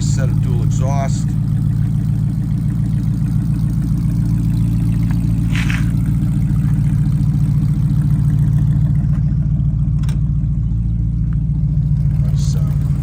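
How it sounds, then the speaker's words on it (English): A 1969 Pontiac Firebird with dual exhaust idles close by, a deep steady rumble with a lumpy pulsing beat that runs continuously, while someone talks briefly over it. "Nice set of dual exhaust."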